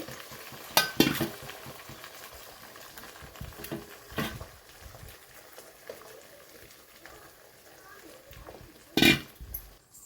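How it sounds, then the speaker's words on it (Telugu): Eggs frying in a pan over a medium flame, a soft steady sizzle with a few louder clattering stirs and scrapes near the start, middle and end; no talk. "ఎగ్స్ వేసి మీడియం ఫ్లేమ్లో వేగించుకోవాలండి"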